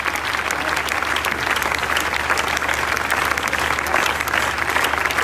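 Loud, dense applause from a large crowd at a revival festival worship event as a reverend takes the stage, continuous clapping at an even level for the whole stretch with no voices standing out.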